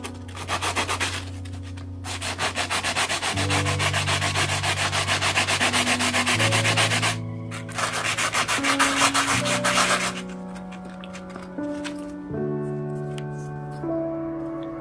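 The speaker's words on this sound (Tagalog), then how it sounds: "So pwede ko itong gamitin dito sa pagliha niya sa ibabaw." Sandpaper rubs the top surface of a Mini 4WD body damper part in steady, rhythmic scratchy strokes, close and fairly loud over background music.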